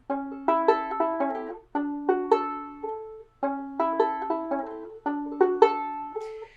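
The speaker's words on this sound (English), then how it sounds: "The entire transition between the lick and then into the picking pattern is going to sound like this." A ukulele plays a short melodic lick, then settles into a steady picking pattern of bright, clear notes, with no voices.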